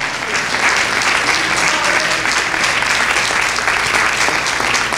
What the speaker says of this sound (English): Give the Lord a hand clap for that.